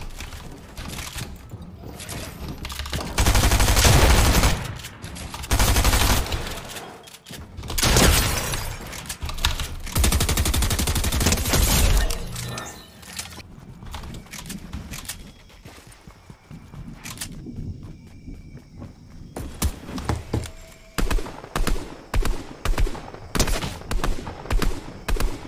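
Fortnite gunfire in a solo arena match, with bursts of loud shots early on, quieter stretches in between, and a quick series of sharp, rhythmic shots near the end.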